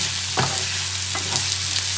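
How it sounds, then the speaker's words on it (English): Onion, bacon and grated carrot frying in oil on turned-down heat, a close steady sizzle with a few spatula scrapes through the pan. "I just want it to soften with our substitute pancetta, a bacon from the butchers, and our grated carrot and our onion."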